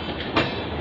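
The Jallianwala Bagh Express, running from Amritsar to Tatanagar, pulls into Ayodhya Cantt railway station with a loud, close, steady rolling rumble of wheels on track and one sharp metallic clank partway through.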